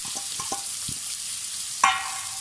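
Onions frying in oil in a pan as the base for chicken spring rolls: a steady broadband sizzle with a few soft low taps, then one sharp clink near the end.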